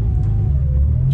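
A Chevrolet Corsa Wind with a 1.8 16v engine and lightened flywheel runs with a loud, close, deep engine rumble throughout, rising slightly near the end.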